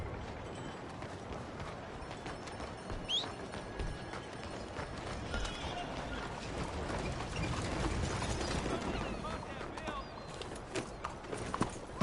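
Steady clip-clop of horse hooves in Red Dead Redemption 2, trotting along continuously at a moderate distance under faint background murmurs.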